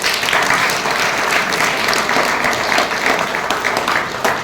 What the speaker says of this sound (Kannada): ನಿಮ್ಮೆಲ್ಲರ ಜೋರಾದ ಚಪ್ಪಾಳೆ.